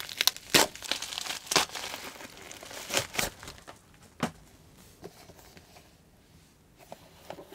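Packaging of cheap Bluetooth TWS earphones, a Kujodok J201, being unboxed: a close run of crinkling and tearing handling noises with sharp bursts early on, fading to quieter rustles.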